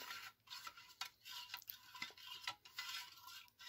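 Spoon stirring an old MRE drink mix powder into water in a plastic pouch or cup, a steady scraping and swishing stir with light clinks, quiet and close, no voices.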